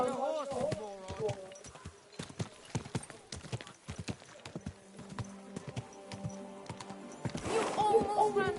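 Horse hooves clip-clop steadily on a path while riding in Kingdom Come 2, a brisk rhythmic beat close by, with characters talking over it and a horse whinnying near the end.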